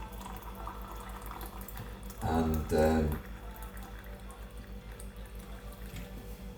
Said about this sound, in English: This is my wonderful hot water machine here in Thailand